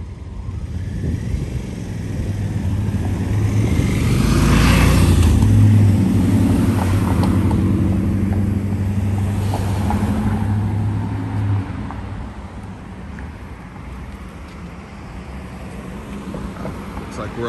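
A car drives past on the main street of Vincennes, Indiana, with a low engine rumble that swells and fades over several seconds while people talk nearby.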